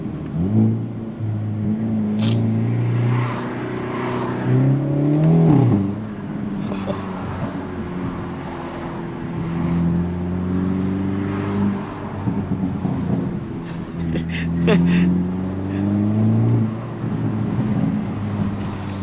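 A Hyundai Elantra N engine revs up and settles repeatedly, with a few sharp exhaust pops crackling near the end of the revs, close and fairly loud.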